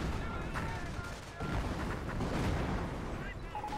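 Artillery and gunfire in a Company of Heroes 2v2 tournament match, heavy booming impacts and shots layered over a constant roar of battle, with several louder bursts rising from a busy, sustained din.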